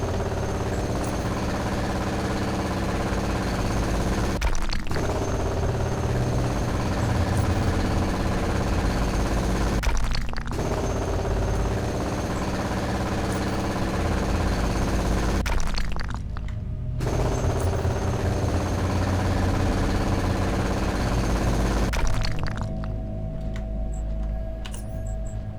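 Drilling through rock in the video game Underrail, a loud grinding, rattling drill running in long continuous bursts with brief pauses between them, close and unbroken by talk.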